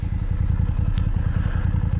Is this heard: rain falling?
no